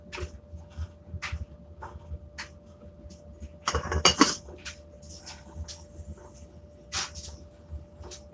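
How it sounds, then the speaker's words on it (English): Pots, pans and cutlery clink and clatter in scattered sharp knocks while food is cooked, with a louder cluster of metallic clanks in the middle over a quiet kitchen background. "I'm just cooking a little food."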